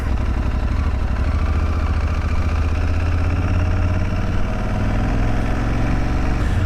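An Aprilia Tuareg 660 motorcycle engine runs steadily at idle, a close, loud, continuous mid-range rumble with slight clatter and no talking.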